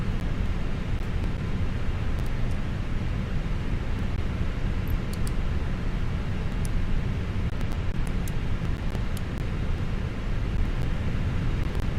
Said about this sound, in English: Here's our wind noise.